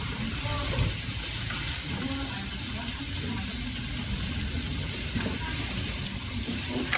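Onion and sausage fry in a pan with a steady, even sizzle and crackle up close, a constant bed of hissing that runs throughout with light clatter underneath.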